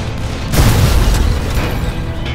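Gunfire and explosions in the video game Call of Juarez: The Cartel, with a deep, heavy boom rolling in after a short lead-in and rumbling on loudly for nearly two seconds.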